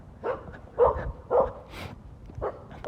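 A dog barks in short, separate woofs, about five spaced across a few seconds, fairly close and moderately loud with no talk over them.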